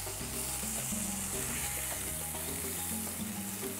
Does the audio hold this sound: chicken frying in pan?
yes